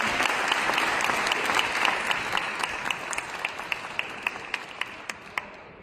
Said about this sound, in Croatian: molim vas da je pozdravite sa velikim pljeskom